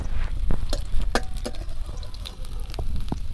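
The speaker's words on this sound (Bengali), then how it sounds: "পেঁয়াজ কাঁচা লঙ্কা সব ভালো করে ভাজা ভাজা করে নিয়েছি।" Chopped onion and slit green chillies fry in hot oil, giving a close sizzling bed with scattered sharp pops and clicks of stirring, no speech.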